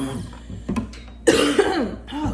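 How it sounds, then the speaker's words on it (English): A person coughs while mixing peppermint essential oil for lavender mint goat's milk soap: a few short hacks, then a loud, harsh coughing fit, close and alone. "I think the peppermint's making me cough"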